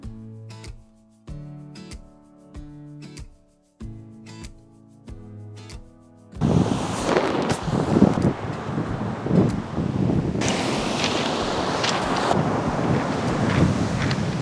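Ocean waves crash on a rocky shore along the Camino del Norte, loud and near, with heavy wind buffeting; the surf takes over abruptly after a stretch of melodic music.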